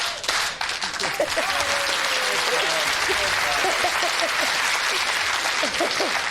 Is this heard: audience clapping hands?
yes